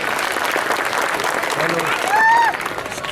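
Loud applause from the audience at a BJP Scheduled Caste front conference, a dense wash of clapping with voices and a rising tonal call over it, swelling toward the end.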